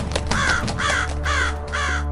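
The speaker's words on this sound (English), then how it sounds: "Raven landed upon the rail" A raven perched on a ship's rail gives four harsh, evenly spaced caws, close and clear above a steady low rumble, with no voices.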